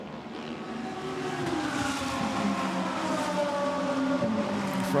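Ferrari and Lamborghini GT race cars lapping the Barcelona circuit in a sprint race, a steady loud roar of engines with rising and falling revs, fairly close and with no voices over it.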